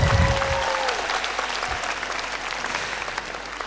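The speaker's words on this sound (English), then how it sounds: "Again, another round of applause for UTM" A hall audience at the Tan Sri Tony Fernandes premier lecture gives UTM a round of applause. Sustained, dense clapping from many hands runs throughout, steady and fairly loud, with a brief tone and low thump early on.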